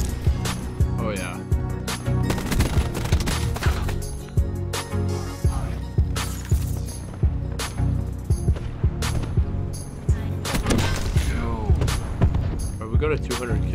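Automatic gunfire in a first-person shooter, rapid repeated bursts with sharp thumping reports over a busy game soundscape, steady and loud throughout, with talk from players mixed underneath.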